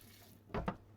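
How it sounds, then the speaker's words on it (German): Rostbraten beef, floured on one side, laid into hot olive oil in a pan for searing, giving two short close bursts of sizzle and clatter in an otherwise quiet kitchen. "Und da werden wir jetzt unseren Rostbraten geschwind scharf anbraten."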